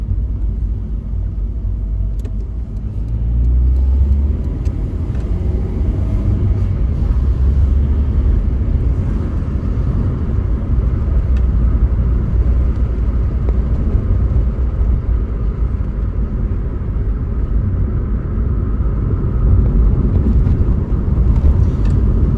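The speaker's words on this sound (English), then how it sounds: "just have a listen to the car" A 1990s Ford Mark IV driving, heard from inside as a steady low engine and road rumble that holds evenly at moderate loudness for over twenty seconds with no talk.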